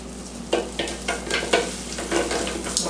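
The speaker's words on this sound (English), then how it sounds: "So let's heat the butter, which was 2 tablespoons and 1 tablespoon of olive oil." Butter and olive oil sizzle in a skillet over medium heat, a bright crackling hiss broken by repeated scraping strokes of stirring at a roughly even pace, close and fairly loud with no voices.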